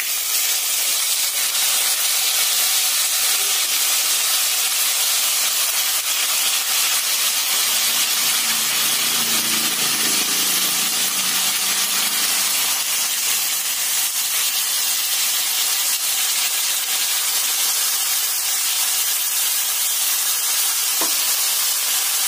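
Loud, constant hissing sizzle of chicken pieces cooking in hot spice paste, with a brief low rumble midway and no voices.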